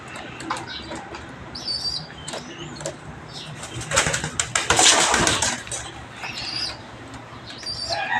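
Caged pigeons flap their wings in bursts, loudest midway, amid soft bird chirps and cooing close by.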